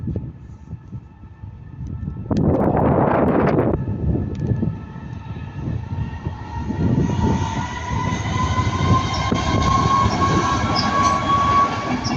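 A Class 67 locomotive, 67.015, hauls a passenger train with driving van 82.226 past at close range, a loud rising rumble with a burst of brake or horn noise early, then steady wheel roar and a high sustained whine.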